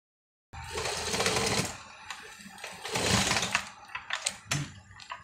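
A sewing machine stitches a shawl collar jacket in two long whirring runs, then a few short stop-start bursts, close and alone.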